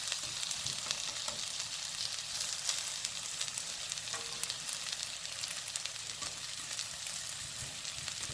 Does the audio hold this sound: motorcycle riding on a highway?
no